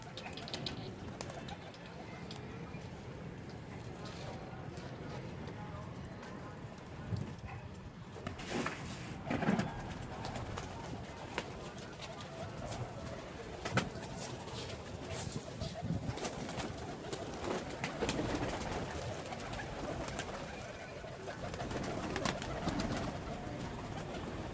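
Pigeons cooing near where grain is scattered, soft repeated coos over a busy outdoor background with faint voices and scattered knocks.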